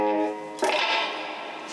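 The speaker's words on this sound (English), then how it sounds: "this has got a tube compressor, and it's got a little reverb" Electric guitar played through an Amplitube tube compressor with a little reverb: a sustained chord rings, then a fresh strummed attack lands and trails off into a soft reverb tail, heard alone.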